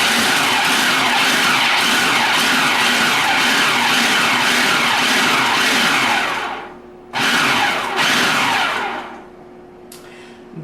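A food processor pulsing a flavoring mixture for grilled chicken, giving a loud, close, continuous whirring chop. It runs for several seconds, stops briefly, bursts again, then cuts off.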